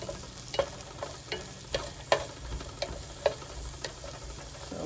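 Heart of palm and cabbage cook in a pan with a steady sizzle, punctuated by regular utensil clicks and scrapes as the food is stirred at close range, without speech.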